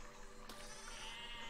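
A sheep in the physics video game Besiege bleats in a drawn-out, wavering cry over a steady low background hum, with a brief sharp click partway through.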